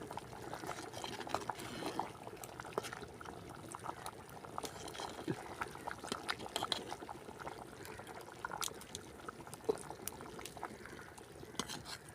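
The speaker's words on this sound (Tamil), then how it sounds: "அழகாக கொதிக்குது குழம்பு" A pot of thick squid curry bubbling and simmering steadily, with soft popping and gurgling throughout and no voices.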